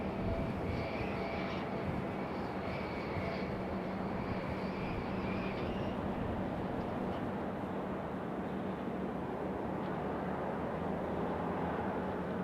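A NetJets business jet at Raleigh-Durham airport gives off a steady, broad engine roar with a whining tone. The sound stays constant at moderate distance throughout.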